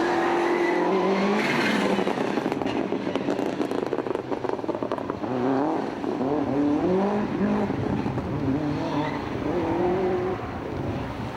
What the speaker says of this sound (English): 15th, the Subaru Impreza GC8 of Alan Cameron and Angus Williams.